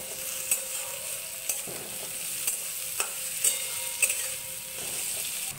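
Garlic paste and chopped tomato fry in a pan for a spicy Bengali dried fish curry, a steady sizzle broken by spatula knocks about once a second.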